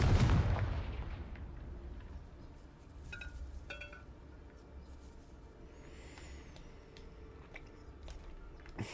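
Confringo fire spell from the video game Hogwarts Legacy exploding in one loud, booming blast at the start that quickly decays into quieter game ambience and faint effects.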